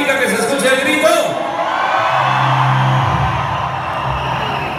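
A concert crowd at a show at the Bronx Expo Center in New York screams and cheers loudly and continuously, a dense roar filling the space after a singer's call.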